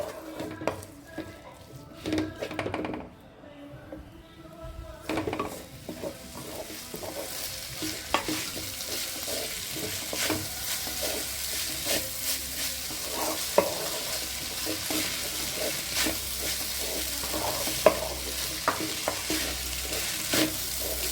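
Flattened rice upma stirred and mixed in a pan, a steady sizzle with repeated scraping strokes of a spoon running throughout after a brief quieter pause near the start, no talking.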